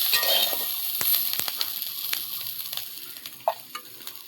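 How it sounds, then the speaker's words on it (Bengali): Garlic, black cumin and chillies frying in hot oil, a soft continuous sizzle with scattered crackles and pops, close and moderate in level, occasional spoon scrapes, no talking. "রসুন, কালো জিরা আর লঙ্কা দিয়ে একসাথে ভেজে নিলাম"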